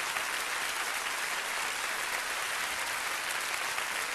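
A theatre audience applauds after a comedy act on a French television variety show, giving a continuous even wash of clapping from many hands at moderate volume with no talk.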